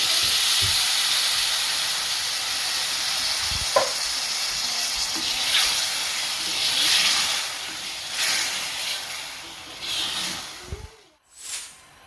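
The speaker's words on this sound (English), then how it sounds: "And then we add the coconut milk." Coconut milk poured into a hot pan of lobster and prawn curry, a steady loud sizzle and hiss close up, fading and breaking off near the end with no talking.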